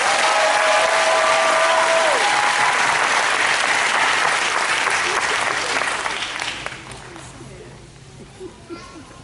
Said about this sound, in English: Please, big round of applause for these students.